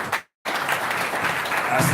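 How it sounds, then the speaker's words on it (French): A seated audience at a live ceremony bursts into applause after a short pause and keeps clapping steadily, a dense crowd texture that grows louder toward the end. "Vous pouvez applaudir."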